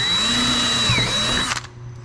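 A power drill bores a hole while installing Mud Busters on a General XP 1000 UTV, a close, steady motor whine lasting about a second and a half before it abruptly stops and winds down.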